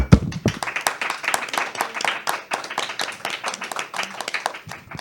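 Scattered applause from a small group fills the closing of a Catholic talk show segment, a steady patter of individual hand claps of moderate loudness with little else behind it.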